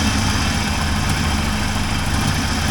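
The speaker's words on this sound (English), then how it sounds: "You hold it up and it's supposed to come back to idling like that." A 1980 Triumph TR7 engine runs close by, holding a steady, loud idle throughout with a rough low rumble and no speech.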